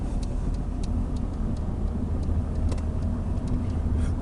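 A Nissan Primera engine accelerates in third gear, a steady, close, continuous drone with road rumble and no talk.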